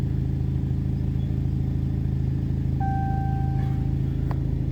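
A wrecked Jeep Cherokee idles steadily as it is shifted into gear to back up, with a low, even engine rumble throughout and a brief tonal beep partway through.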